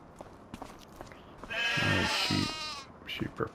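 A sheep in Farming Simulator 25 gives two or three close, loud bleats in quick succession, standing clear of quiet background game ambience.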